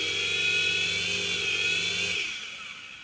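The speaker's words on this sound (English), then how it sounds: "first you just want to check that all of the motors are working" Micro RC helicopter motors spun up during a motor check, giving a high, steady electric whine with a lower buzzing tone that cuts out partway through, leaving the fainter high whine to fade, close by with no talk.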